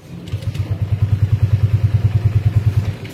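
A motorcycle that seems short of electrical current struggles to start as the throttle is opened, giving a close, loud, rhythmic chugging that pulses evenly several times a second without catching cleanly.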